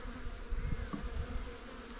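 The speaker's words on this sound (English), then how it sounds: "Now these bees are all bunching up, so I'm going to try and push them out of the way a bit." Honey bees in an open hive during spring expansion, a faint low buzzing hum with a few louder passes of individual bees, quiet and close.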